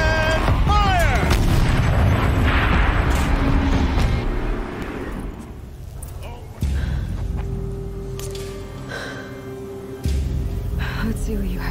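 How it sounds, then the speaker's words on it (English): Turret cannon fire in a Horizon game cutscene, heavy booming blasts and rumbling impacts at the start that fade into lower rumble, with voices talking over parts of it. "Rotate turret! And fire!"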